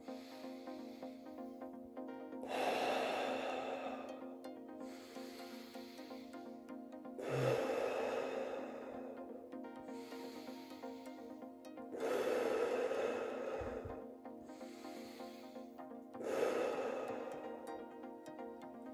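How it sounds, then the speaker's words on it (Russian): Slow, deep breathing exercise for relieving a cough, inhaling through the nose and exhaling through the mouth, with four long audible breath cycles alone at close range, each swelling and fading over a few seconds. "Вдыхаем носом, выдыхаем ртом. Дальше делаем 5 глубоких вдохов и выдохов."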